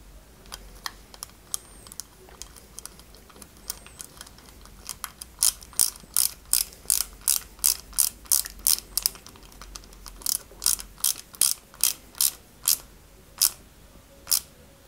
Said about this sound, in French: Et on y met une vis EM.